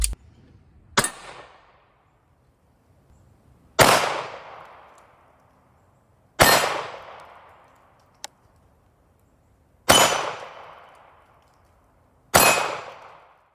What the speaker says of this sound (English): we're just going to shoot at the steel